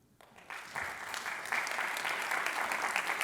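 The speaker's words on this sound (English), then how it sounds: "You see, we clap for equations." A lecture audience at a public science and cooking talk breaks into applause, starting with a few scattered claps and quickly swelling into steady, dense clapping from a large crowd.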